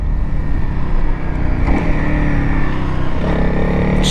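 A motorcycle engine hums steadily while underway, with a couple of quick rising rev blips as the rider downshifts, loud and close throughout.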